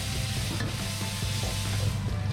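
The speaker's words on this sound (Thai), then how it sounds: "แล้วก็ผัดหมูให้สุกครับ" Minced pork stir-fried in a pan after garlic, a soft continuous sizzle with faint scraping of a spatula, close and fairly quiet, no voices.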